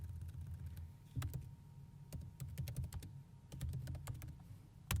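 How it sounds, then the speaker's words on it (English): Quiet typing on a computer keyboard as a list title is entered into a search filter, with short bursts of sharp clicks over a low steady background hum. "I will type the public title"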